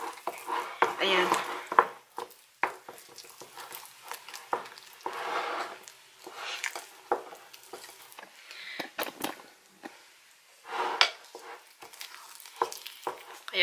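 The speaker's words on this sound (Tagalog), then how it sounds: "Kailangan haluin mabuti kasi yung ano, yung white chocolate mahirap siya haluin" A spoon stirs thick melted white chocolate in a pot for strawberry fudge, with scraping strokes against the pan coming in uneven bursts while someone talks over them.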